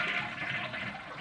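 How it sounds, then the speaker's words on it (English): A household toilet flushes to drain its tank, a steady rushing gurgle of water running out, fairly close and heard alone. "Flush your toilet to drain the tank completely."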